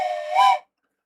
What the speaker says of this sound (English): 3 train whistles to start the live stream